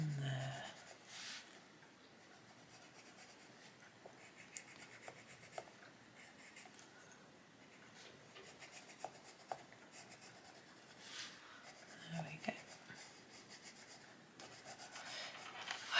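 Colouring pencil scratching and rubbing across paper while shading snow in a snowy scene, a soft, steady, continuous scribbling texture close by at low volume, with no speech.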